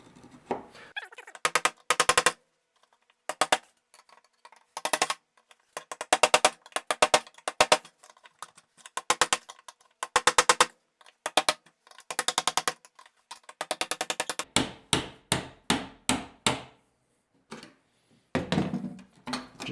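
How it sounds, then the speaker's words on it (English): Repeated hammer blows knock the fuel tank ring loose on a 1982 Pontiac Firebird left sitting for 25 years, sharp metallic strikes landing in fast bursts and rapid clusters with short pauses between, close and loud with no talking. "let me just hammer on this thing for the next 10 minutes and get this ring out of here"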